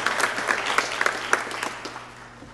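Audience at a university convocation clapping for new graduates, a steady dense wash of applause with scattered sharper claps, fairly close and continuous throughout.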